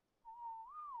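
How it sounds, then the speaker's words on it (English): A single player-character whistle command in Ark Survival Ascended: one clear, steady whistled note that lifts slightly in pitch near the end. It is close and isolated, with no talk over it. "You're passive, but I'm whistling just in case."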